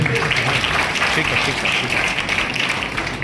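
An audience applauds steadily to welcome a guest onto the stage at a school event, with continuous dense clapping and some voices mixed in.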